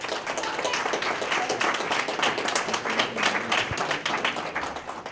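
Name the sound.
audience applause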